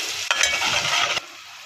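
Arvi masala stirred in a pan just after red chilli and coriander powder go in, a close, steady sizzle with scraping stirs for about a second before it drops to a quiet hiss.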